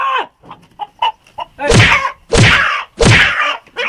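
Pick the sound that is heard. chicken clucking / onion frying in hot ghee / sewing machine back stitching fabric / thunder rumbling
chicken clucking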